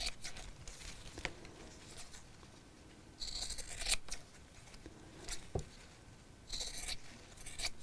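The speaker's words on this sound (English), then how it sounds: "I can trim the width of these tabs back to the width of the zip" Scissors trim fabric tabs on a zipper for a sewn pouch: a handful of crisp, close snips and soft rustling cuts at uneven intervals, fairly quiet with no talking.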